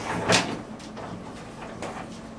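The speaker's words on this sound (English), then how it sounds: "I'm going to open the Bod Pod door" Bod Pod body composition chamber door swinging open, a short close thump near the start followed by faint rustling and a couple of soft clicks in a quiet room.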